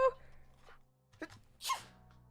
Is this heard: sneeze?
yes